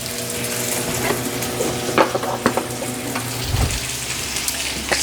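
A whisk stirs and scrapes through raspberry chipotle sauce in a pan, with steady sizzling underneath and repeated sharp taps and clinks against the pan, close and fairly loud, with no talking.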